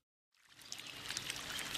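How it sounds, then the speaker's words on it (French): A mountain stream in the Basque Country, flowing beside a hiking trail, fades in after a brief silence and becomes a steady, close, bright rushing and burbling of water with no voices. "Ça fait longtemps qu'on longe ce ruisseau."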